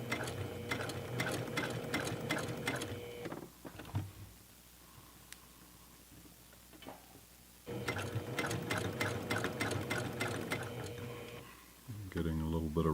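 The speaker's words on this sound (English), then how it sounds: "Keep that seam nice and flat as you sew over it." Steady, close whirring of a sewing machine stitching a seam on makeup bag lining, running in two long bursts with a quiet pause between them, while a person speaks softly.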